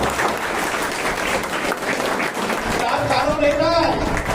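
An audience claps at a Hindu religious gathering preparing for a scripture quiz contest, a broad steady wash of applause with voices mixed in near the end.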